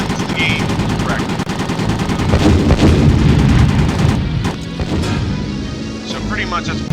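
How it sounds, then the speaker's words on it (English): Rapid anti-aircraft flak bursts and machine-gun fire in the World War II Pacific flight game Beyond Pearl Harbor, loud and continuous, with booms layered over steady engine drone. "You've got to avoid flak fire in the game because flak will do damage to you."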